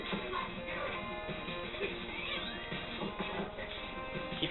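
A cat in the Sega game Pulseman meows repeatedly in lo-fi, band-limited game audio, mixed with steady rhythmic game music and sound effects.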